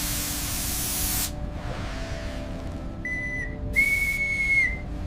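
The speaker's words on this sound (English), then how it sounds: "Preparing to trace a sudden pressure dip by spraying leak foam." Leak detection foam hisses from an aerosol can onto a seal, one long spray burst followed by a shorter one, alongside a thin high whistle from the pressurised system.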